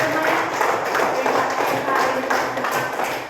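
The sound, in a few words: class clapping hands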